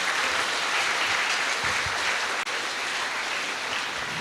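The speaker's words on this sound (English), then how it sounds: "we please give the big applause for the all speaker and also of the questioner" Steady applause from a pharmaceutical research conference audience, honoring the speakers and questioners, a dense continuous wash of clapping with a brief dip partway through.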